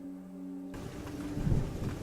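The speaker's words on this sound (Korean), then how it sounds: "천둥 소리와 빗소리가 온 천지를 뒤덮은 비무장지대에" A deep, rumbling roll of thunder swells over a dense wash of steady summer rain in the DMZ, loud and close, after a brief hum-filled lull.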